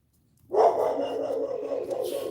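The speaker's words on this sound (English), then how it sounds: "Y'all hear that big dog bark?" A big dog gives a single deep, sustained bark that rings out after a quiet start, fairly clear and moderately loud.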